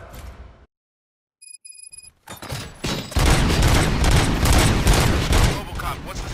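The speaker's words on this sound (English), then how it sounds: "Gunshots? What's going on?" Sustained gunfire and loud combat noise in the video game RoboCop: Rogue City, erupting after a short quiet stretch with brief beeps and continuing densely and close for several seconds.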